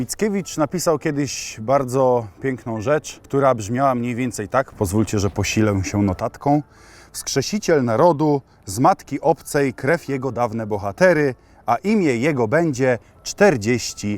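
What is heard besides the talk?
None of the usual background noises is heard.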